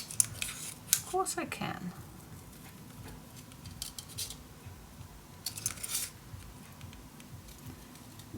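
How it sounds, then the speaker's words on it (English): Sharp scissor snips cut through patterned craft paper for a handmade magic box, coming in short bursts with quieter pauses, as someone speaks briefly. "I can't talk and cut in the same time being."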